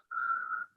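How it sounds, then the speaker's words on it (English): A single clear whistled tone from a person, held steady for just over half a second in an otherwise quiet meeting room. "Whistling."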